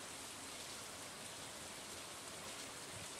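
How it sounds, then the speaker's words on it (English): Steady rain falls in Stardew Valley, a constant soft hiss of drops with no other sound over it. "Fishing in the rain"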